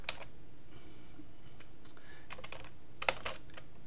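Typing on a computer keyboard while writing a simple program, a sparse run of light close key clicks with a sharper cluster of taps near the end, quiet and without speech.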